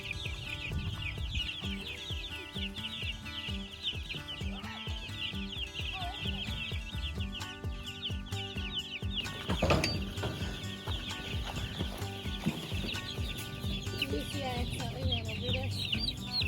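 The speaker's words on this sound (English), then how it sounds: "why don't we go move those meat chickens now?" Meat chickens clucking as they are moved from a brooder to a hoop house, repeated chirps and clucks over rattling, ratcheting mechanical noise, with some talking in the background.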